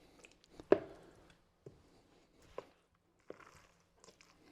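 Jalapeno pimento cheese spread ingredients being mixed, heard as quiet, intermittent soft thuds and squishy knocks spaced about a second apart, close but faint.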